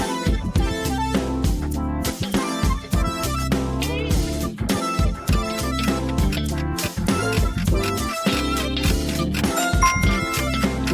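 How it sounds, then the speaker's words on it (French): Melodious Christmas bells chime in a bright, dense, ringing pattern with overlapping tones, loud and continuous, with a musical backing underneath. "Choisissez les cloches de Noël mélodieuses."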